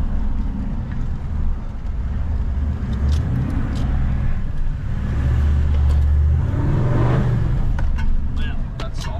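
A vehicle driving along a remote coastline on soft sand, with a steady low engine rumble and road noise throughout, close and continuous, with occasional light knocks over it.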